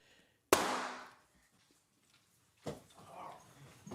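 A single sharp gunshot cracks in a replayed video clip, loud and sudden, then decays into quiet before muffled rustling and movement follow.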